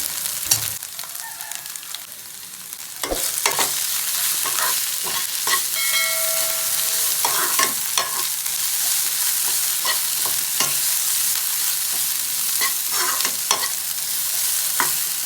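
Soya chunks sautéing with ginger, garlic and spice powder in a pan, a loud continuous hiss of frying broken by frequent spatula scrapes and knocks, close up with no talking.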